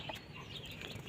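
Backyard chickens clucking and calling in a short, continuous burst, close by with steady farmyard ambience and no talking.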